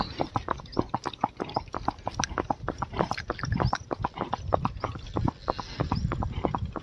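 A horse moving in the smooth revaal gait, its hooves clip-clopping in a quick, even, continuous rhythm of sharp close strikes, with no voices over them.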